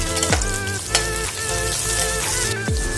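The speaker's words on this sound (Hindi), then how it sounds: "शिमला मिर्च और प्याज हल्की से ब्राउन हो चुकी है है" Capsicum and onion frying in a pan for soya Manchurian, a loud close sizzle with a few sharp stirring scrapes and a steady hiss throughout.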